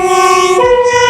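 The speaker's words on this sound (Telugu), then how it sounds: "Fire engine." A fire engine siren sounds loud and close on a city street in Amsterdam, a strong wailing tone that drops sharply in pitch partway through.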